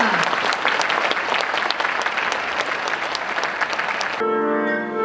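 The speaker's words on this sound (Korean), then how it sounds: "박수로 전달식을 갖겠습니다" An audience at a presentation ceremony for a donated painting breaks into dense, sustained applause, a loud, even wash of many clapping hands that gives way near the end to a tonal musical sound.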